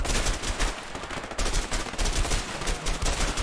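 Rapid bursts of gunfire from a weapon in the game A Way Out, loud and close, with repeated shots crackling in quick succession and brief gaps between volleys, no talking.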